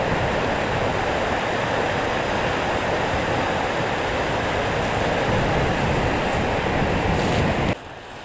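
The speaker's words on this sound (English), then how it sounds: "Nice little waterfall there." Small waterfall beside a mountain trail in the Smoky Mountains, a steady close rush of falling water that cuts off abruptly near the end.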